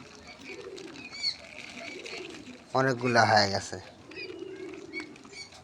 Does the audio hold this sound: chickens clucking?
no